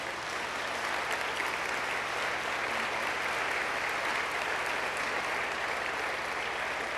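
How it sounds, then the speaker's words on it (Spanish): A church congregation applauds the Lord during a Spanish-language sermon, with even, continuous crowd clapping held at a moderate level from start to finish without pause. "Entonces denle un aplauso al Señor."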